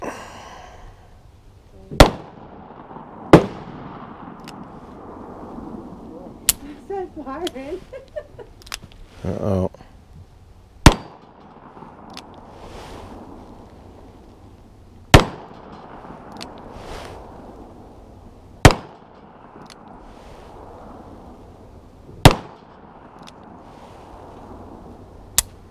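Several sharp, loud gunshots from a Smith & Wesson Governor revolver firing Remington slugs ring out outdoors at irregular intervals, with someone talking quietly in between.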